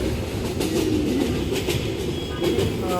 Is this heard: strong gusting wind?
no